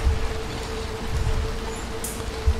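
Steady rain in the Little Nightmares 2 game, a soft continuous patter with low rumbling underneath, no one speaking.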